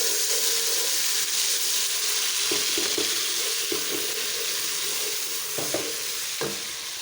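Steady sizzling of garlic and ginger paste frying in a hot pan, continuous and close, with a few soft stirring scrapes and clicks.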